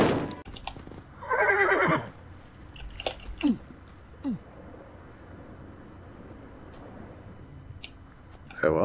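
A horse whinnies in a short burst in the video game Y Lands as it is fed, followed by chewing and soft crunching noises and a few faint clicks against a quiet background.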